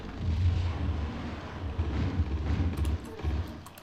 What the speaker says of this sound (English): I'm probably going to use my grenade launcher on these guys